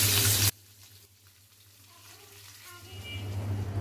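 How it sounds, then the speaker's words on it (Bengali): Hilsa fish frying in oil in a pan, a soft, steady sizzle that follows a brief loud burst at the start and slowly builds. "উল্টে দিয়ে অপর পাশটাকেও আমি 1 মিনিট মতো ভেজে নিব"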